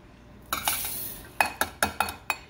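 A spoon clinks and scrapes inside a pot as elderberries and spices are stirred for homemade syrup, with a brief rustle followed by five sharp, close metallic knocks in an irregular rhythm, and no voice.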